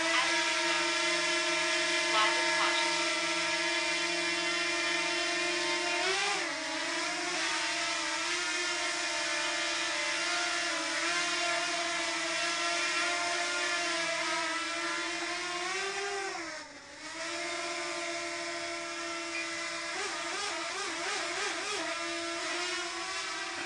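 DJI Mini 2 drone taking off and flying, a high, steady buzzing whine of spinning rotors with shifting pitch as it manoeuvres, close and loud throughout, with no talk.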